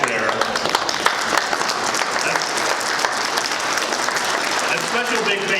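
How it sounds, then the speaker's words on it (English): An audience at an economic summit applauds the event team, a dense, loud round of clapping that carries on steadily while a voice talks over it near the end. "I want to give a big round of applause and a thanks to my team who's in the back there"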